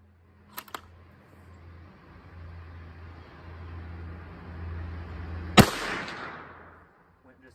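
A Savage Axis II rifle chambered in .300 Blackout fires a single sharp, loud shot at an outdoor range, preceded by a couple of faint clicks and a low steady background hum.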